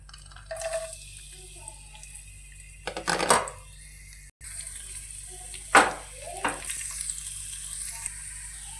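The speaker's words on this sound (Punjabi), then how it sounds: "ਤੇਲ ਆਪਣਾ ਗਰਮ ਹੋ ਗਿਆ ਤੇ ਹੁਣ ਆਪਾਂ ਇਹਦੇ ਵਿੱਚ ਪਾ ਲਾਂਗੇ ਜੀਰਾ ਨਾਲ ਹੀ ਆਪਾਂ ਪਾ ਲਾਂਗੇ ਜੀ ਲਸਣ" Cumin seeds and garlic sizzle as they go into hot oil for an okra (bhindi) curry, with a loud frying crackle in two bursts and light stirring between them.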